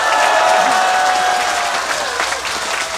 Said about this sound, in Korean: 영광을 해주신 송영선 위원께 다시 한번 큰 박수 부탁드립니다